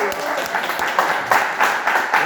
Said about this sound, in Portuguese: vamos receber com a poderosa salva de palmas em nome de Jesus